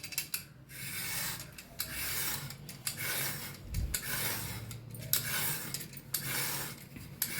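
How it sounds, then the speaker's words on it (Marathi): Fresh ridge gourd is grated by hand, a rhythmic rasping rub repeating in short strokes, close and moderately loud, with brief pauses between passes and no talking. "दोडक्यांना किसून घेऊया आपण पहिला."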